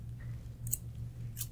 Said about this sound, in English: what I like to do is use 2 scissors at a time